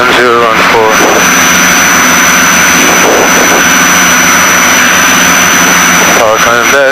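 Engines of a Piper Seneca twin-engine aircraft on final approach: a loud, constant droning roar heard from the cockpit, with a voice speaking over it at the start and end.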